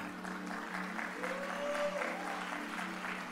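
A church congregation claps during a sermon, a dense steady patter of applause filling the room, with a faint voice or tone rising briefly midway.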